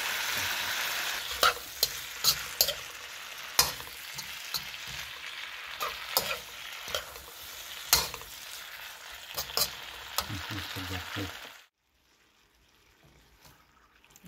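Vegetables stir-fry in a pan, a close crackling sizzle broken by frequent sharp clatters and scrapes of a utensil tossing them, with no talking, then the sound cuts off abruptly near the end.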